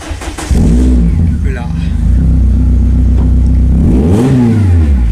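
A car engine starts up and rumbles loudly at close range, then revs up sharply near the end, with voices talking over it.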